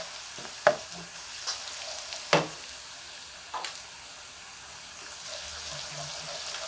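Crushed garlic and onion fry in oil in a pan for chicken yakhni pulao, a soft steady sizzle underneath a few scattered clinks and stirring knocks, fairly quiet and close.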